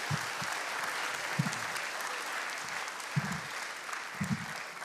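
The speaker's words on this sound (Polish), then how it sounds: "Brawa!" An audience claps steadily in a dense, even wash of applause that lasts the whole time. It is fairly distant and soft, with a few dull low thumps underneath.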